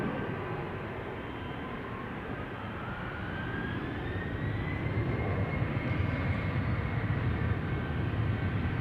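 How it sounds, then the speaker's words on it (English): A KLM Embraer 190 on KLM flight 1293 to Billund departing Amsterdam Schiphol, a steady jet roar with a rising whine that builds louder toward the end. "This is KLM flight 1293 to Billund. Another Embraer 190."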